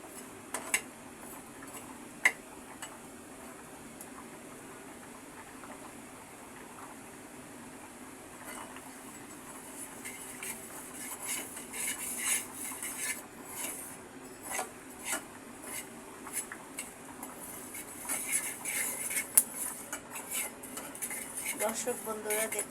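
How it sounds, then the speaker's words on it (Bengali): Sesame seeds roasting in a pan, small scattered pops and ticks with some scraping of a utensil against the pan, faint and close, growing busier toward the end, with a little talk in the background. "আমি তিলগুলো হালকা আছে ভেজে নিচ্ছি এবং দুই একটা তিল ফুটে উঠেছে"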